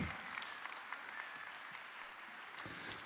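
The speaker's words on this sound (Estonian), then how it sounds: "Suur aplaus, Toomas Uibo." Applause at a political event, steady clapping from a crowd heard faintly and evenly throughout, with no talk.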